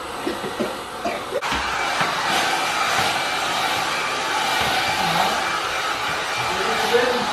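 A child's FeeKaa toy hair dryer blows with a steady, airy whoosh that runs almost the whole time at close range, while a few voices, chuckles and a cough come through over it.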